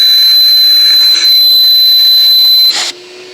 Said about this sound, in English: this is very, very quiet vacuum